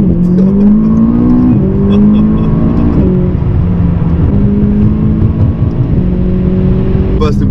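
A McLaren 570S sports car accelerates on the road, heard from inside the cabin, its engine note sweeping up and dropping through gear changes, loud and continuous, with a voice speaking over it at times.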